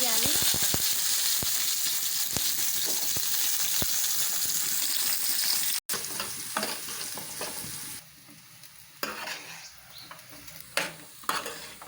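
Soya chunks (meal maker) fry in a pan with a loud continuous sizzle and frequent sharp spatula taps. The sizzle drops abruptly partway through, leaving quieter frying with scattered clinks and scrapes.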